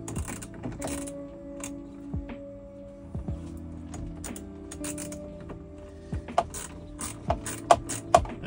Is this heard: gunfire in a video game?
no